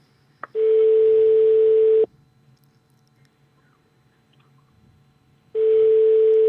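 Outgoing call ringback tone on a telephone line, two long steady rings separated by a silent gap of about three and a half seconds, clear and alone.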